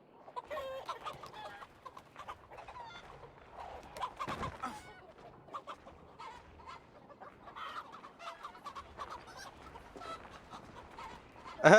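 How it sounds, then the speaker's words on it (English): Video game chickens cluck and squawk excitedly while chasing, a busy run of overlapping calls with sharper outbursts near the end. A few faint voice-like sounds mix into the flock. "Now the chickens are chasing them."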